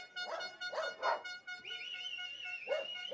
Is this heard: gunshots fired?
no